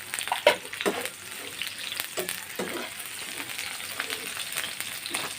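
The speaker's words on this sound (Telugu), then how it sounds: "ఉల్లిపాయలు వేగాయండి" Onions, green chillies and tomato sizzle in a pan for prawn curry, a steady fry with intermittent scraping stir strokes, close and moderate in level, no talking.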